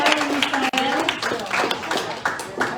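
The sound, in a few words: applause for a person arriving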